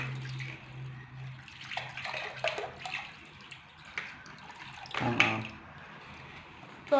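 Liquid poured into a bucket while mixing wall paint during home renovation, a steady watery pour and splash close by with a brief louder gush midway and a few quiet voices.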